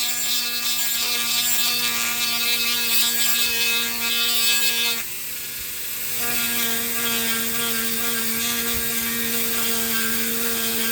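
Dremel rotary tool spinning at about 15,000 RPM while slowly carving a fairy village piece, a steady high whine with a brief dip in pitch and level midway, alone and close.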